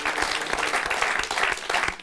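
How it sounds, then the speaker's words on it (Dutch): Audience applause at a live Frisian show, a dense steady clapping from a crowd, close and continuous for the whole couple of seconds. "Ja, dus even genieten van dat applaus"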